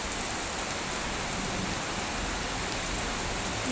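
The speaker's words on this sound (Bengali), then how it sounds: "আর কি জোরে বৃষ্টি আসছে দেখো, ঝাপটাটা দেখো" Heavy rain pours down outside in strong gusts, a steady, even hiss of drops drumming on surfaces with no pauses.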